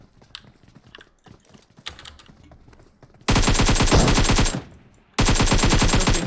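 Automatic gunfire in the battle royale game PUBG bursts loudly in two sustained rapid-fire volleys after a stretch of quieter footsteps and scattered clicks, with a brief gap between bursts.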